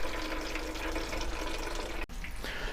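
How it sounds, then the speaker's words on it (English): Steady rushing, splashing flow of water pumped out of a wild Discus and Altum angelfish aquarium during a water change, continuous and fairly close, with a brief break near the end. "I'm going to stop pumping the water out"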